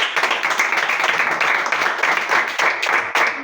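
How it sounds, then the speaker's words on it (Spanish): Church congregation applauding during a sermon. Steady, fairly close clapping from many hands continues for a few seconds without pause. "Aplauda a Dios por esto."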